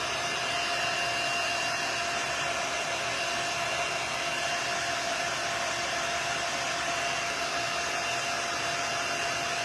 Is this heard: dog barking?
no